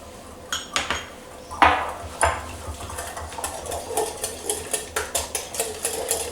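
A spoon mixes melted butter and sweetener in a bowl, scraping and clinking against the sides in quick, regular knocks. Close and fairly loud, with a few heavier taps early on.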